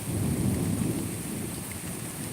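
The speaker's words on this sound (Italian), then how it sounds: "Sì, sta piovendo proprio di brutto." Heavy rain pours in a thunderstorm with lightning striking behind a mountain, a dense steady roar of rainfall with low rumbling underneath, continuous and close, with no talking.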